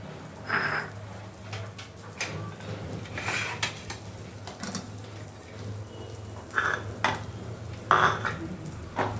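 Cheesy garlic paratha frying in melted butter in a wok gives a steady low sizzle, with occasional sharp clinks and scrapes of a utensil against the pan.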